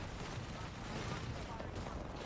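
Bangalore's ultimate artillery barrage in Apex Legends: a dense, continuous rumble of overlapping explosions with no clear gaps, loud and sustained throughout.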